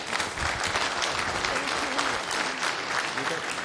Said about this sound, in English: So a round of applause for the first talk, Rashmi, and the slides are here.